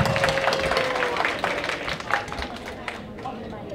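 Audience applause for a lecturer, Ajarn Kittisak Sripa, at a Thai retirement tribute event in 2018: dense, steady clapping that holds for the whole stretch and slowly thins toward the end.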